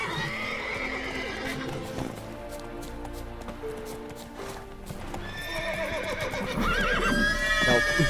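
A wild horse in a video game whinnies and snorts while its hooves clop in quick, uneven rhythm, close and loud, with the neighing rising again near the end.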